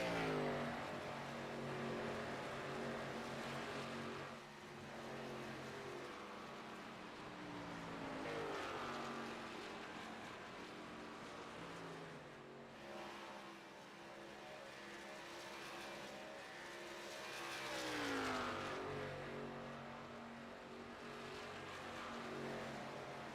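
Race car engines from the iRacing game at Charlotte drone loudly and continuously, their pitch rising and falling as the cars accelerate and ease off lap after lap, with no talk.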